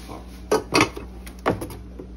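Ceramic cooking pots and lids from a cookware set being handled, with a few distinct clanks and knocks of ceramic and metal contact spaced over a couple of seconds, close and moderately loud.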